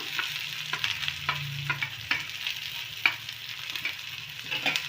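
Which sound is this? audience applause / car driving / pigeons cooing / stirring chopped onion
stirring chopped onion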